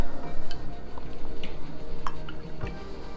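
Egg and buttermilk being whisked in a bowl for corn dog batter: light metallic clinks and ticks of the whisk against the bowl sit over a soft, steady liquid churning at close range.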